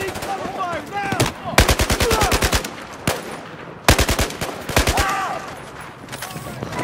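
Gunfire in Battlefield 4 comes in loud, close bursts of rapid automatic shots, broken by short pauses, with shouted voices between the volleys.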